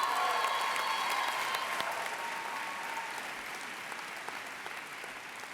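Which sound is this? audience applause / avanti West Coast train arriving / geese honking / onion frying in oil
audience applause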